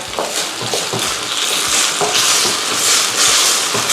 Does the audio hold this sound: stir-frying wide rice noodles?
yes